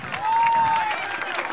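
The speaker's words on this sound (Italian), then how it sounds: "Accogliamoli con un applauso." Audience applause greets tango dancers entering at an Argentine tango school evening, a steady wash of clapping with a long whistle or cheer riding over it, fairly loud and close.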